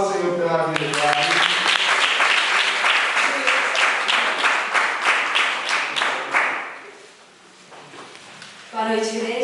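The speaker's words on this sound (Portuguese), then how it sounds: "Aplauda o Senhor pela verdade." A church congregation applauds in a sustained burst of close clapping for about six seconds before it fades to near quiet, after which a voice begins speaking.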